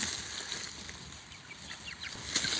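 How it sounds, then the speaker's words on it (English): A baby white Babcock chicken outside its pen makes soft cheeps and clucks, scattered short calls over a steady background hum, with no talking. "This is a white baby Babcock that's not supposed to be out."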